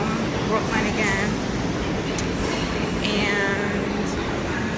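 Loud, constant rumble and roar of a subway train in downtown Brooklyn, a steady wash of rail noise with occasional squeals throughout.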